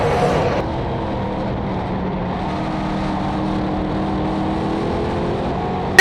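Race car engines hum steadily at mid distance around the Airborne Park Speedway oval, a continuous droning pack of cars on track with no voices.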